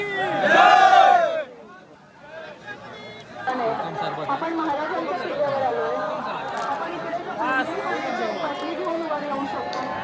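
A large crowd at a Shivaji Maharaj coronation celebration: a loud shout opens, then dense overlapping chatter and voices from many people continue steadily, close and busy throughout.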